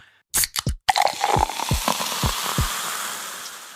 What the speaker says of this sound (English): When you pour a freshly opened can or bottle of soda into a glass